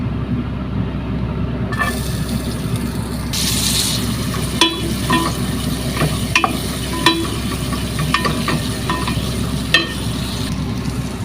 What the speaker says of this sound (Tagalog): Sim na siya na oil. Butang na nato ang atong sibuyas.